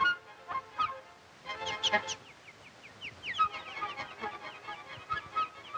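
A cardinal chick squawking loudly and repeatedly, harsh calls in clustered bursts with other chirps, close and unaccompanied by talk.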